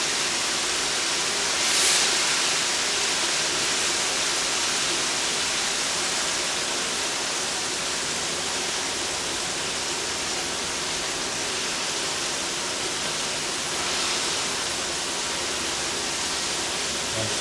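Pork ribs deep-frying a second time in hot oil in a wok, a dense, steady, loud bubbling hiss that holds evenly throughout with no talk.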